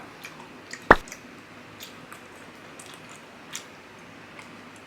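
American gummy worm jelly candy is chewed close to the mic, giving soft squishy, sticky mouth sounds. One sharper click stands out early, with faint wet smacks after it, and no one speaks.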